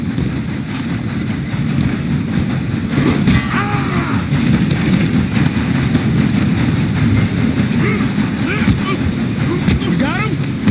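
A train in the video game Red Dead Redemption 2 rumbles steadily along the rails with clattering, metallic knocks and occasional squeals. The noise is loud and continuous beneath shouting voices.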